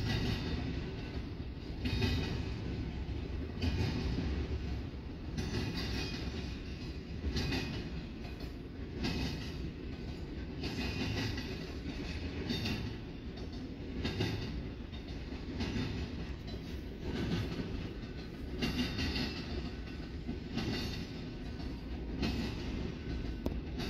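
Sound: eastbound Union Pacific stack train passing

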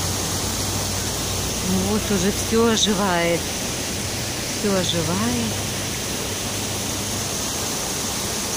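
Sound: flowing water in the outdoors

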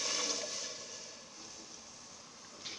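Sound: pouring water into sabudana cooking pot

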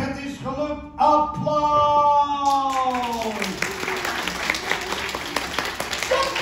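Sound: audience applause at a puppet show

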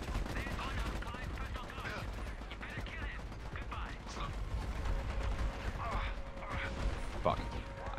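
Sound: enemy gunfire in the video game Army of Two

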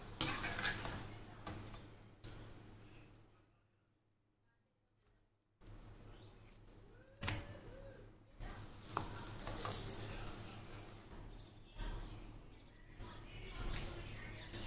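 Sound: rotis frying in hot oil like puris

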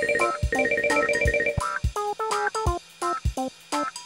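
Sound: telephone ringing

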